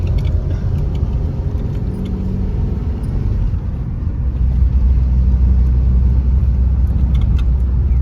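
A car climbs the Mahabaleshwar ghat road, its engine and tyre rumble steady and close throughout, with no voices.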